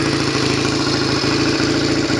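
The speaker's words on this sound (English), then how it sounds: "if you happen to be in neutral or with the clutch pulled in and the throttle shut, coasting, the engine struggles to tick over." Norton Commando 750 motorcycle engine idling unevenly and struggling to tick over, a loud, close, steady low rumble with irregular pulsing beats and no voices.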